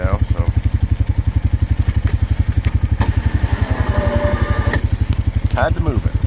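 A Honda Rubicon 520 ATV engine chugs steadily and close while plowing snow in a small snowstorm, a fast regular low thrum running throughout with a few clanks and rattles on top.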